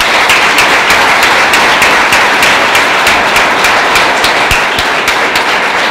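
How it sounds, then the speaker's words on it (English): Sustained applause from a town hall crowd, dense and steady for several seconds with sharp individual claps and a few cheers rising above the wash of hands. "Let's give him a big round of applause"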